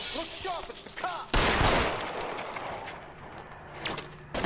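Heavy gunfire in L.A. Noire, a loud burst of shots erupting after a moment of calmer game sound and rolling on as sustained fire with scattered reports, while voices call out faintly beneath it.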